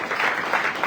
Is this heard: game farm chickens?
no